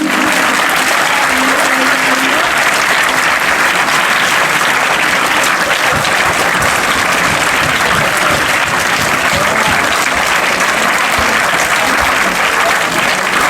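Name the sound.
children applauding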